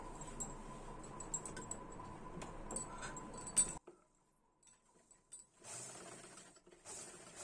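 Sewing machine stitching along the edge of a blouse lining, a close steady mechanical whir that stops abruptly partway, followed by quiet and then further handling noise.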